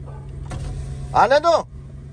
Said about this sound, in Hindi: बेगम साहिबा खोल रही है दरवाज़ा